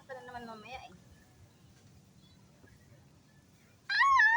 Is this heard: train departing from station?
no